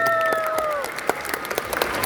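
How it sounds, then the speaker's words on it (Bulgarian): Audience applause for Georg, an actor guest at a Bulgarian fan meetup: scattered claps rise as a fading sung tone trails off early, then a few sharper individual claps follow, moderately close. "Може малко аплодисменти за Георг?"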